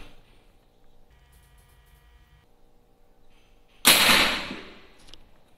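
A paintball marker at 140 bar fired at a helmet, a single sharp, loud crack that trails off quickly after several seconds of faint background hum.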